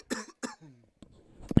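A few short, close coughs in a junior college baseball broadcast booth, in quick bursts with brief pauses between them.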